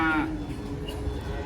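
A cow lows loudly right at the start as cattle are unloaded from a truck, then the sound settles into a steady background of shuffling and low noise.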